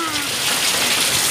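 Steady, dense rain pouring down, a constant hiss of drops on surfaces throughout, loud and close.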